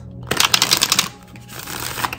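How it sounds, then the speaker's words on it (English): A new tarot card deck being opened and shuffled, a quick riffle of crisp flicking cards up close, followed by softer handling rustles. "I'm going to open another deck for the other cards"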